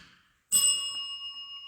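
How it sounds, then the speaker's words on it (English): A single bell strike rings out inside an old church in Malvern, Iowa, with a sharp attack and a long, clear shimmering tone that slowly fades in near silence. "There's a bell."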